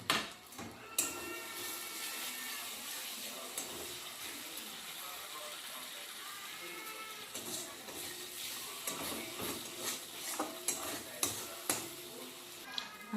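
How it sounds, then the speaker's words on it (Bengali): Spice paste with salt and turmeric being stirred and fried in oil for a katla fish curry with yogurt, giving a steady busy sizzle with repeated scraping and clattering strokes throughout, close and fairly loud. "মশলাটা একটু ভালোভাবে কষিয়ে নেব নুন হলুদটা দিয়ে"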